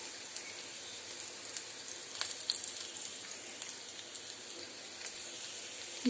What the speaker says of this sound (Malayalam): കറിവേപ്പില എന്നിവയിട്ട് വഴറ്റുക ഇതിൻ്റെ ഒരു പച്ചപ്പ് മാറുന്നതും വരെ ഒന്ന് ഇളക്കി കൊടുക്കുക